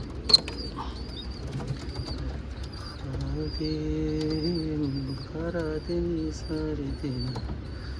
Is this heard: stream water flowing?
no